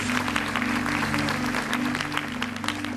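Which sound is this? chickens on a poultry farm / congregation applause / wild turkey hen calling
congregation applause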